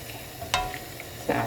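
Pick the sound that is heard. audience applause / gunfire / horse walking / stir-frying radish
stir-frying radish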